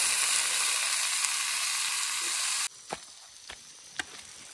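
Potatoes and tomatoes fry in a pan at an outdoor seaside cooking spot, a loud continuous sizzle that cuts off abruptly partway through, followed by a few soft clinks and stirring sounds.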